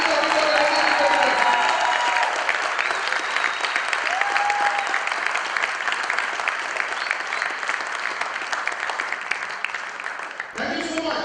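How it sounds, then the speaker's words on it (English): A large audience at an evening awards ceremony claps loudly and continuously, with some cheering mixed in, tapering slightly before cutting off near the end. "Can we have a big round of applause for each everyone, ladies and gentlemen?"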